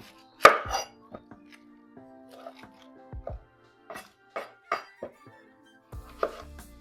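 Knife chopping a red onion on a board during an outdoor waterfront picnic cook, with scattered sharp cuts and clinks, one loud knock near the start and brief murmurs between them.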